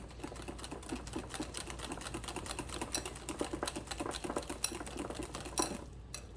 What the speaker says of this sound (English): Okay, I added some milk. Let's just whisk these.